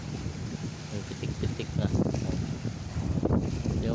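Strong sea waves churn at night in a steady, rushing wash mixed with wind buffeting the microphone, while someone talks over the roar.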